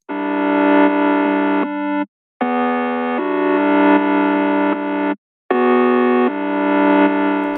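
Simple synth chords in FL Studio chopped and gated by the Gross Beat effect, playing loud and steady in rhythmic bursts with two abrupt silent gaps, no voices.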